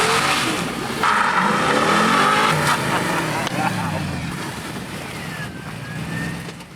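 A finished Holden Monaro drives up at a proving ground, its engine rumbling loudly nearby with revving and shifting pitch as it approaches, while people talk over it.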